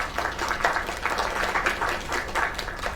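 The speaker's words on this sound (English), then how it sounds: "Another round of applause." A crowd applauds for a singer in a dense, steady wash of clapping that holds for about three seconds at moderate loudness.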